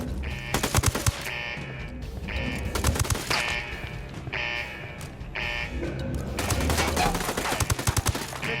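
Bursts of automatic gunfire rattle through a firefight in Ghost Recon Wildlands, rapid loud volleys repeating in clusters with short gaps, growing denser toward the end over a busy game soundscape.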